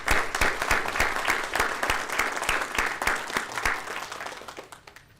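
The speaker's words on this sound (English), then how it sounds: "So please join me in a round of applause." A room full of attendees at a Texas Board of Criminal Justice board meeting claps in a brisk, dense round that holds strong, then gradually thins and fades toward the end.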